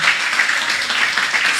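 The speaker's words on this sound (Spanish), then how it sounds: "le vamos a dar un fuerte aplauso a nuestro Dios, iglesia." Church congregation applauding during a sermon, a steady broad wash of clapping that fills the whole moment at close, even loudness with no voice standing out.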